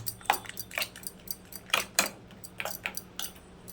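Eggs for a masala omelette being whisked in a bowl with a utensil, giving a string of quick, sharp clinks and scrapes against the bowl, close up and uneven in rhythm.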